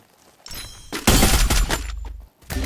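In the video game Free Fire, a loud, dense burst of rapid gunfire erupts after a quieter start, crackling and booming for over a second before cutting off, then resuming briefly.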